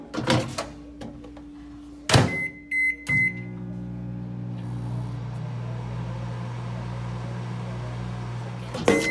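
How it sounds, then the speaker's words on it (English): A microwave oven melting butter hums steadily after a door thud and a few beeps, running alone at a constant low drone until a clunk at the end. "We're going to pop it in the microwave."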